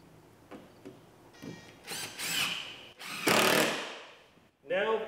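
A power drill drives screws through an OSB strip serving as a temporary brace on a sailboat frame, with several loud whirring bursts of varying length close by, separated by short pauses and handling noise.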